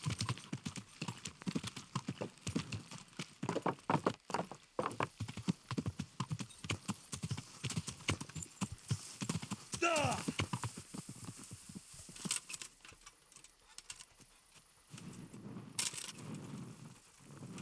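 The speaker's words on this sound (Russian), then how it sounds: "А лошадь проскакала через кусты." A horse galloping through bushes in the video game Kingdom Come: Deliverance, with rapid, rhythmic hoof clip-clops near and loud. A brief rustling swish comes midway, then the hoofbeats thin out and grow sparser toward the end.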